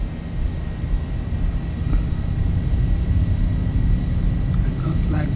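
Boeing 737-800 jet engines spooling up to takeoff power in the X-Plane 11 flight simulator, a steady, loud, broadband roar and low rumble that holds and swells slightly over several seconds with no pause.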